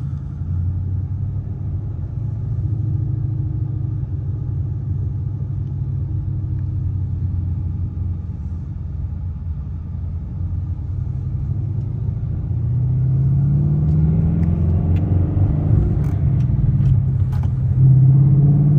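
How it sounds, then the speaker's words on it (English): A 2018 Mustang GT Premium with a 5.0 V8 rumbles steadily while driving, a deep continuous exhaust drone that grows a little louder and fuller in the second half, with no talking over it. "The exhaust sounds great."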